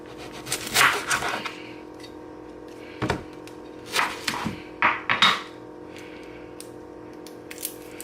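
An onion being cut into big chunks on a board, a series of knife chops in scattered bursts with quieter gaps between them.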